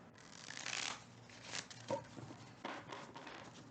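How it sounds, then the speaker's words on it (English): A thick tarot deck is shuffled by hand in several soft riffling bursts with small taps between them, close and fairly quiet, with no talking. "Let me get one more shuffle because these cards thick as hell."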